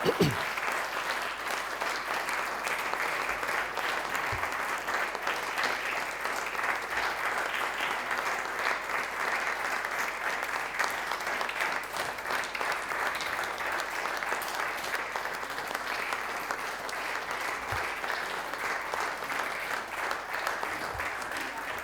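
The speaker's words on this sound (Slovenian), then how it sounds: "Hvala vam in hvala za aplavz." A seated audience at a poetry award ceremony in Velenje, Slovenia claps for over twenty seconds in a sustained, even roar of hands, with a few soft thumps and faint murmurs underneath.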